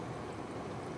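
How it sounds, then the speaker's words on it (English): A Koolance computer cooling fan spinning at high RPM, giving a steady, even whooshing hum with no variation, close by and fairly quiet. "That is Koolance fan."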